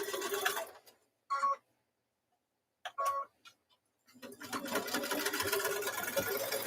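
A sewing machine stitching a smaller seam for a quilt block, running in two short bursts, stopping, then a longer steady stretch of close mechanical whirring and ticking.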